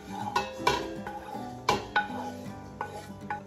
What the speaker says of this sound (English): We're going to go ahead and start mixing them together to make our stuffing.